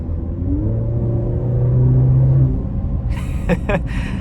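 The engine of a 2023 Maserati Grecale Modena SUV in sport mode gives a deep, steady rumble that swells as it accelerates, heard from inside the cabin. A brief sharp clatter comes near the end.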